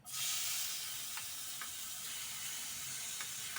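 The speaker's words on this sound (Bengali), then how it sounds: "এই যে তেল গরম হয়ে গেছে, এবার আমি এই পেস্টটা দিয়ে দিচ্ছি" Spice paste dropped into hot oil, bursting into a loud sizzle that settles into a steady hiss with a few soft stirring taps, close up and without talk.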